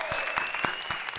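A brief burst of applause sound effect, several loud, evenly spaced claps over a sustained bright tone, lasting just over a second with no talk.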